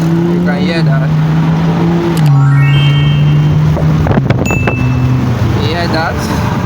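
BMW F30 with a modified exhaust, valve open, revving: a steady engine drone rising in pitch through a rev and settling back, with wind noise over the microphone.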